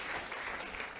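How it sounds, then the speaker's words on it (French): A church congregation at a prayer service breaks into dense, sustained applause, many hands clapping together in a full, even wash without any voices. "Acclamons pour le Saint-Esprit."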